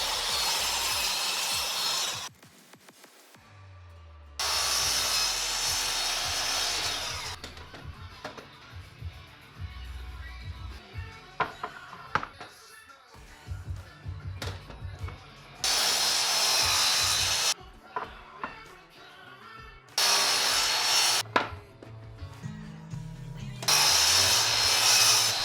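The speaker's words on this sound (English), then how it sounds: "So got the miter saw out," A miter saw chops wood boards to rough length for a rustic farm table, making several loud, separate bursts of blade whine, each a few seconds long, with quieter handling noises and bumps of wood between the cuts.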